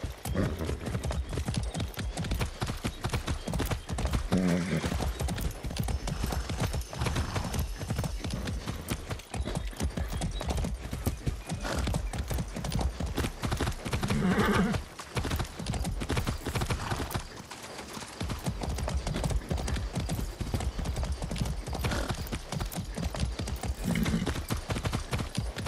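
Horse hooves clip-clopping steadily in Far Cry 6, a rapid continuous rhythm of close hoofbeats with an occasional whinny, running throughout with brief pauses.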